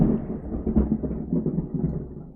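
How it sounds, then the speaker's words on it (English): Thunder from a storm outside rolls as a low, muffled rumble, swelling and fading unevenly over a couple of seconds, heard from indoors with no talk over it. "did you hear the thunder outside?"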